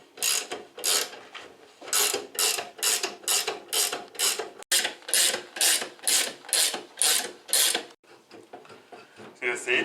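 Spring compressor tightened on a Porsche 944 strut, a close, rhythmic rasping ratchet of about a dozen evenly spaced strokes, a brief pause, then more strokes, with faint talking in the background.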